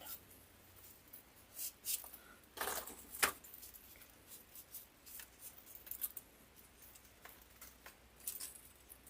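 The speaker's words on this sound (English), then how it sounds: "I want to cut this one off again." Scissors cut through wreath-making supplies at close range, with quiet irregular snips and rustles of material in scattered bursts over a low background hum.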